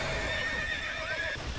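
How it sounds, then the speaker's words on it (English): Horses in the online video game TERA Online neigh and whinny loudly over a steady clip-clop of hooves, a dense continuous mount sound filling the whole moment. "Mark, look at all the horses."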